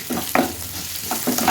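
Dried chillies and garlic sizzle in hot oil for a tempering, a short close burst of frying hiss with a few stirring knocks and no voices.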